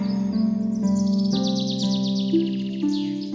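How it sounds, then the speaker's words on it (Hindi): A parrot in a fairy tale sound effect gives a run of bright chirping, tweeting calls over a sustained musical tone, steady and fairly loud with no talk. "जब फ्रेकल्ड वहां से जा रही थी तो एक तोता उसके पास आया"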